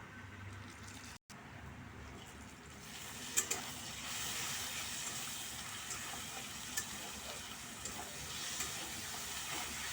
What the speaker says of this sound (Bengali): এখন আমি আদা, রসুন, কাঁচা লঙ্কা যে পেস্টটা করে রেখেছি এটা দিয়ে দিলাম।